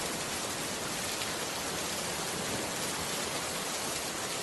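Steady, even rain falls continuously, a dense hiss of drops spread across the whole clip with no pauses, no voices and no other sounds.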